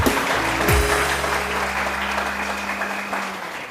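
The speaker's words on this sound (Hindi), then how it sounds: "बहुत सारी तालियां बजाइए जी" A television morning-show studio audience claps loudly and continuously, dense applause filling the room alongside a sustained musical tone and a brief sliding sound near the start.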